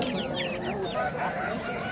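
Black Japanese bantam chickens clucking and chattering close by at a poultry market, short quick calls over a steady background hum.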